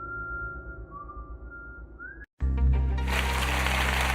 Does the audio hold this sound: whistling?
yes